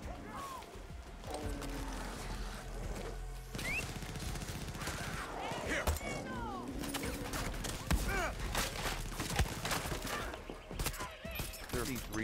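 MC3 assault rifle gunfire in the video game Far Cry 6, repeated cracking shots and short bursts scattered through a busy stretch of combat with crashes and mechanical clatter, a voice speaking at moments.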